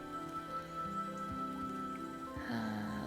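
Soft rain patters steadily in Chicory: A Colorful Tale, a faint, gentle spatter beneath sustained musical tones, with no voices.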